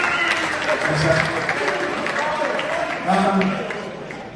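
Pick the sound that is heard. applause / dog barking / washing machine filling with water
applause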